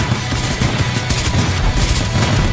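Rapid, dense gunfire from several weapons pours into a T-Rex in the Guardians of Orion game, a loud continuous barrage of overlapping shots with booming low thuds throughout.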